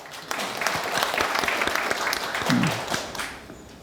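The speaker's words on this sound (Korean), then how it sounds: "박수 한번 합시다." Audience applause at a provincial government town hall meeting in Cheongsong, Korea, steady moderate clapping from a seated crowd lasting a few seconds, with murmured voices underneath.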